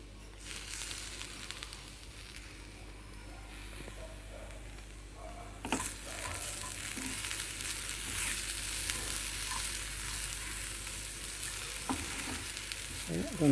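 Okra fry with coconut, carrot and lentil powder frying in a pan, a steady close sizzle with occasional stirring scrapes, growing louder and brighter partway through, no talking.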